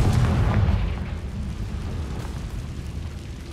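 A Confringo blasting spell goes off in a Harry Potter video game, a loud, dense rumbling boom that dominates the opening second and then settles into a sustained low roar with crackling debris, no voices over it.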